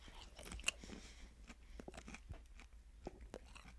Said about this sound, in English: I'm sure everyone's loving hearing me chew through their car stereo.